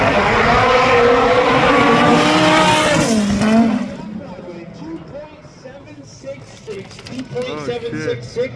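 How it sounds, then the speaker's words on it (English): Dragster racing on a sand drag strip, a loud roaring run for about four seconds that cuts off abruptly, leaving quieter crowd and announcer talk. "He's going to bring that dragster into the left lane."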